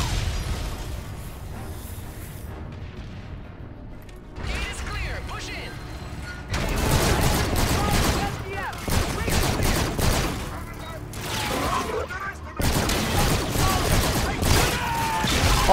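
Gunfire fills a Call of Duty: Infinite Warfare firefight, with dense sustained bursts of automatic shots and mechanical clatter, loud and near, the volley rising in intensity after a brief lull while a voice talks over it.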